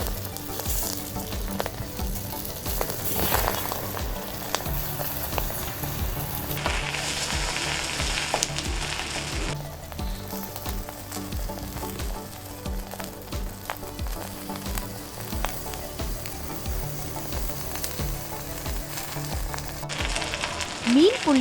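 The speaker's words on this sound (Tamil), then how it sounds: "ஒரு சைடு 5 நிமிஷம் பொரிஞ்சதும் இன்னொரு சைடு திருப்பி ஒரு 5 நிமிஷத்துக்கு பொரிய" Fish wrapped in banana leaf, Kerala pollichathu style, fries in a pan with a steady close sizzle and crackle that continues without a break, with no talking over it.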